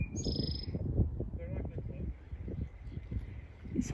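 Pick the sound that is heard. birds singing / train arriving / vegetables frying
birds singing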